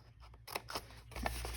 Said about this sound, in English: And then we're going to cut the inside pieces.